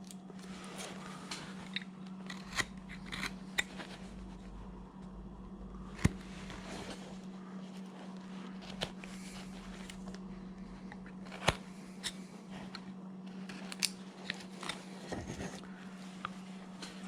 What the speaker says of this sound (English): Let's take this knife right here. Come in and cut back.